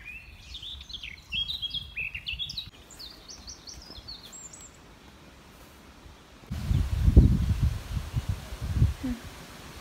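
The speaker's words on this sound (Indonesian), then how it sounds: "Dengan kicauan burung." Wild birds chirping outdoors among blackberry bushes, with bright repeated tweets and short song phrases in the first half, then quieter, while rustling and handling noises grow louder near the end.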